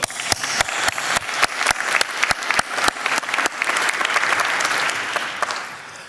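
Graduates at a graduation ceremony give a round of applause: a dense, loud wash of many hands clapping, punctuated at first by a series of sharp, evenly spaced claps, then thinning and fading out near the end.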